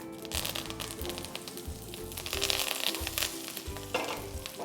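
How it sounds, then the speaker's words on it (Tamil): Mustard seeds splutter and sizzle in hot oil with curry leaves, a close, crackling fry broken by quick popping bursts over a steady low hum. "இந்த கடுகு இப்போ லைட்டாக பொரிஞ்சு வருது."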